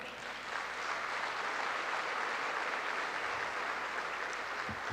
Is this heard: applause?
yes